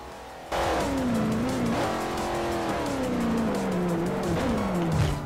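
A racing car in Forza Motosport 4 roars steadily with a loud engine tone, then sweeps down in pitch as it slows for a corner, with faint tire noise over the last seconds.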